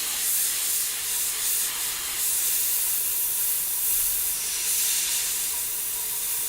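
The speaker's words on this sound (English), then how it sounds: "I'm going super light on the airbrush here, guys. I'm not trying to add too much paint, so I'm barely pulling this trigger back." Airbrush spraying a light mist of paint, a steady airy hiss that runs continuously with gentle swells in loudness and no speech over it.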